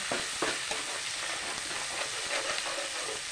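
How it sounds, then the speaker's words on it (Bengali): Eggplant and hilsa fish sizzle steadily in hot oil as green chillies are stirred in, with a constant frying hiss and soft scraping stir strokes up close. "ভালো করে কাঁচা লঙ্কা দিয়ে নেড়ে নিব"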